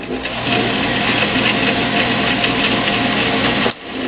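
A Rong Fu 9 x 16 inch horizontal band saw with hydraulic down feed runs steadily under power, a loud, even motor drone with a broad whirring hiss that holds constant, then drops off sharply near the end as it winds down.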